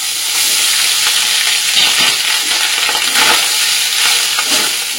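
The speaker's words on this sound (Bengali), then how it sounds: "গরম মশলা তেজপাতাটা ভাজা ভাজা হয়ে গেছে, এবার রাইসটা দিয়ে দেবো।" Rice tipped into hot oil with fried whole spices and bay leaf: a loud, dense sizzle that swells in waves as it is stirred, close up and continuous.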